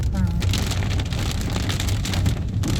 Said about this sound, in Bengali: বৃষ্টি পড়ছে, আমরাও বের হয়েছি, আর বৃষ্টিও শুরু হয়েছে।